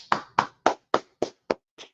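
Seven slow, evenly spaced hand claps in a Sabbath service, close and distinct with silence between them, the last one softer.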